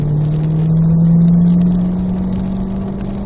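Corvette Z06 engine accelerates in fourth gear, a loud, close mid-pitched drone that rises steadily in pitch across a few seconds, with no talk.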